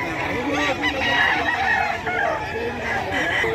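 Several gamefowl roosters crow repeatedly at a busy rooster market in Bocaue, their overlapping crows loud and close over a steady background murmur of voices.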